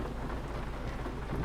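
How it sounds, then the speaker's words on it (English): Rain falls steadily in the American Truck Simulator video game, a close, even wash of downpour with no break and no talk over it. "This is actually going to be quite the trip in the rain, isn't it?"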